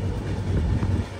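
A passenger train pulls into Parvathipuram railway station with a steady low rumble and rolling noise, heard briefly and fairly close.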